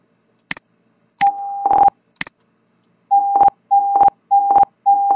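Theta-Meter program for Windows emitting electronic beep signals as its meter needle falls: a few short clicks, then repeated steady tonal beeps in a regular rhythm, clear and alone without talking.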